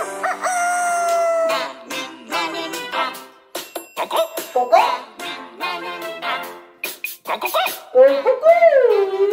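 A rooster crows in a rising, wavering call amid other animal cries and kitten-like whimpers, close and loud, with a voice imitating animal calls in a playful tone during a Korean children's story.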